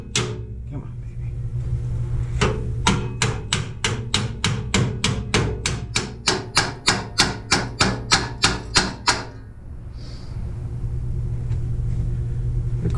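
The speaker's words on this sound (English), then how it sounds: "The cardinal sin of using a wrench as a hammer." A wrench used as a hammer bangs on a neglected L325 skid-steer, about twenty rapid, evenly spaced metallic strikes over a low steady rumble, then the rumble carries on alone.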